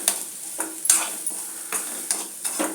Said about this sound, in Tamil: தேங்காய் போட்டு ரொம்ப வதக்க தேவையில்லை. லைட்டாக அப்படியே 2 வதக்கு வதக்கிட்டு இறக்கிடலாம்.